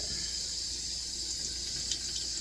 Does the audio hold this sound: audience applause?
no